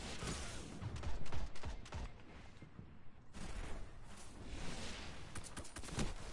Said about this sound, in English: Ah, the shotgun takes me out.